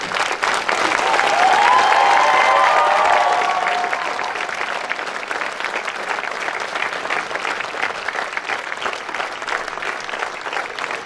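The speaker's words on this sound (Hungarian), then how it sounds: "Köszönjük a tapsokat is" A theatre audience at a summer open-air performance of Csinibaba in Kaba applauds steadily, the clapping swelling early and then holding a dense, even patter throughout.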